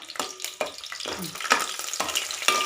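Garlic frying in hot oil for a Telugu curry, a crackling sizzle with spitting pops and stirring scrapes, close and moderately loud.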